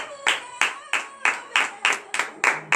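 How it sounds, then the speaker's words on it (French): Hands clap in a steady rhythm during a morning prayer gathering, about eight sharp claps spaced roughly a third of a second apart, close and distinct with faint background tones. "donne de vive acclamation à l'Éternel"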